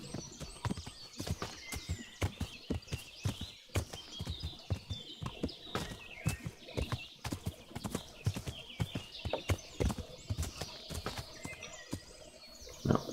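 Horse hooves clip-clop steadily in the video game Kingdom Come: Deliverance, a rapid, even rhythm of distinct hoof strikes at moderate volume with no voices over them.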